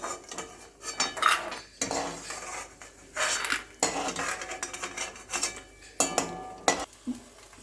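Metal spatula scraping and clinking against a pan while lifting fried lentil dumplings (bori) out of hot oil, with several sharp scrapes and a soft sizzle underneath; no talking.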